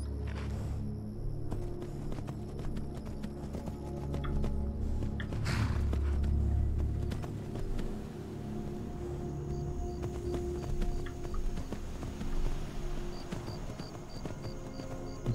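Horse hooves clip-clop steadily in Skyrim as the horse is ridden through Falkreath toward its stable, a close and continuous walking rhythm over a soft bed of ambient game music.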